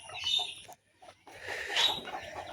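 Ducklings and chickens on a small farm peeping and clucking in a brief burst, a short quiet gap, then more shrill chirping, near and moderately loud.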